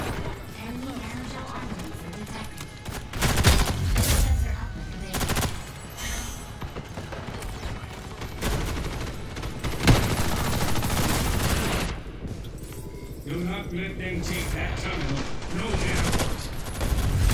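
Dense gunfire from the video game Ghost in the Shell First Assault, with rapid automatic bursts and single shots layered over busy in-game action and crashes, loud and continuous with a short lull near the end.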